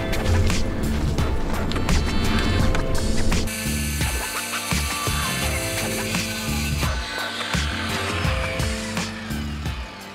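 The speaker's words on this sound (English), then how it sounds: "I'm gonna go back to my trusty circular saw and put it right against the decking and make a straight line" Circular saw cutting across wooden decking while building a chicken coop nesting box, loud and continuous with a harsh whine that shifts in tone partway through the cut, no talking.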